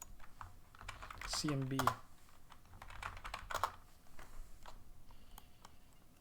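Soft clicking of computer keyboard keys at an uneven pace, faint and close, with a brief voice breaking in partway through.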